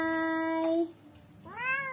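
A pet cat meows close by, one long drawn-out meow, then a short pause and a rising second meow, loud and clear with no talk.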